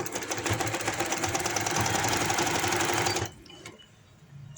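A sewing machine stitching the hem of palazzo pants, whirring in a fast, even, close running buzz for about three seconds before stopping abruptly, followed by faint handling noise; no talking.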